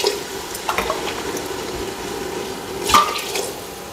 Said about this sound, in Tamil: தண்ணி ஆட் பண்ணிக்கலாம் ஃப்ரெண்ட்ஸ்.